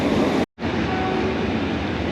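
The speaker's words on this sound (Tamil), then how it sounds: "இங்கே பாருங்கள், டீசல் என்ஜின் மாதிரி இருக்குது, செம்மையாக இருக்குங்க." A diesel train engine idles at a station in Thailand on the Bangkok–Ayutthaya line, giving a loud steady rumble close by that cuts out for an instant before resuming, with no speech over it.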